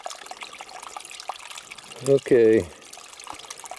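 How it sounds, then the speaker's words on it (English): Spring water trickles down over rock outdoors at an old hillside spring, a soft continuous wash of flow while someone briefly speaks close by. "All that water, there's got to be at least a couple gallons a minute coming down through there on the rock"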